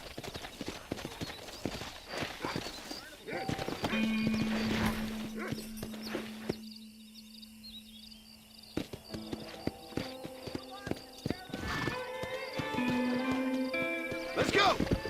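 Saddled horse in a video game, clip-clop hoof steps in bursts with a drawn-out neigh and tonal game sounds, while a person talks over the top.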